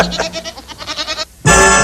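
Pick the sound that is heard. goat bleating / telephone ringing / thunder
goat bleating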